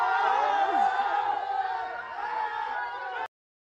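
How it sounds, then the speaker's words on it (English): A crowd cheers and shouts during an attack on Iran, with loud overlapping voices and whoops that hold steady for about three seconds before cutting off abruptly. "You notice how in every video people are cheering."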